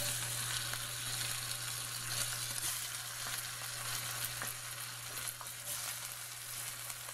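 Soft shell crabs sizzle steadily in olive oil in a hot pan, a dense, continuous frying hiss with a low steady hum beneath, close and without talk.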